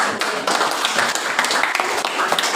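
Classroom applause from students in an Indonesian school lesson, a loud lively burst of clapping with close, sharp individual claps, fairly dense and steady for a few seconds.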